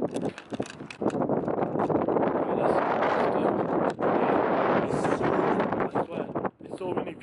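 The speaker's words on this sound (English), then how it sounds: "It's so windy." Strong gusts buffet a microphone outdoors on a cold, windy day in Manchester, a loud roaring rumble that swells and surges almost continuously, with brief lulls near the start and end.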